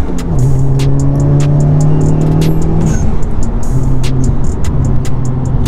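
An FK8 Honda Civic Type-R with an HKS blow-off valve and ceramic downpipe idles and revs, a short turbo blow-off squirt releasing on the gear change over steady close engine drone with ticking mechanical noise.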